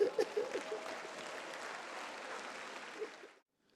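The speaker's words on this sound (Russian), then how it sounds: "Дайте себе аплодисменты." Church congregation of men applauding, a dense, even round of clapping heard from a distance that holds steady for about three seconds and then cuts off into silence.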